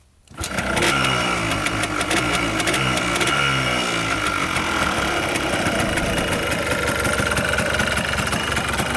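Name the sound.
Yamaha Blaster engine idling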